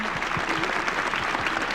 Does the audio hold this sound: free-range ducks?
no